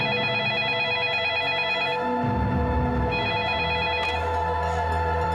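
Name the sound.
telephone ringing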